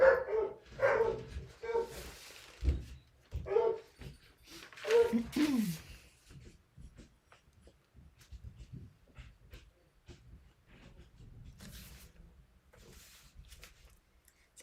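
Two household dogs bark together indoors, with a cluster of loud barks and yips early on, then trailing off into quieter panting and shuffling.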